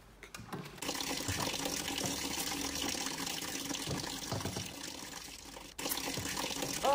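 Water runs steadily from a kitchen tap over frozen toy salad pieces being washed, a continuous splashing stream close by, briefly interrupted near the end before resuming.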